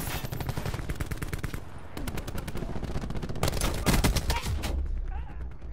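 Rapid automatic gunfire in the video game Call of Duty Black Ops 4, loud close bursts of sharp shots broken by a brief pause, then further volleys trailing off.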